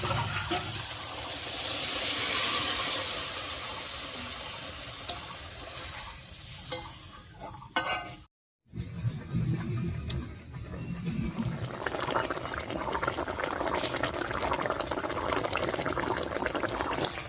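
Fish curry with spiced water poured over fried puti fish, bubbling and simmering steadily up close in the pan, with a brief break in the middle and no talk.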